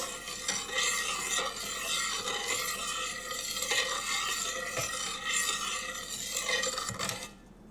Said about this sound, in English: Let me just stir those peppers in